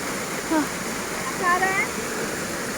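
Cold mountain stream water flowing along the Kedarnath trek, a steady broadband rush with a few faint higher tones drifting over it.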